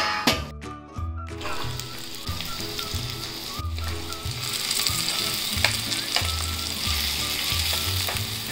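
Stuffed okra (bharli bhendi) frying in a pan, a strong continuous sizzle with bright crackle and a rhythmic low thumping pulse beneath, close and unbroken.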